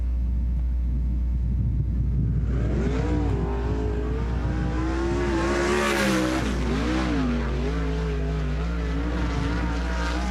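A sprint car on a Western Sprint Tour lap at Sunset Speedway Park, its engine rising from a distance into a loud, rasping pass with a sharp pitch swing as it goes by, then tailing off, over a steady low hum.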